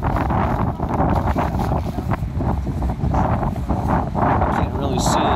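Strong wind of around 30 miles an hour blows at Chestnut Ridge, roaring and buffeting the microphone continuously and loudly throughout.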